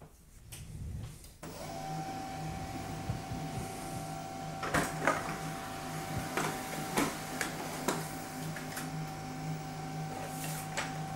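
A Canon MF3010 laser printer whirs into action with a steady mechanical hum, punctuated by repeated clicks and clunks as a page feeds through.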